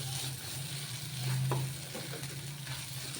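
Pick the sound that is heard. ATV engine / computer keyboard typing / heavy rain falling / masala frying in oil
masala frying in oil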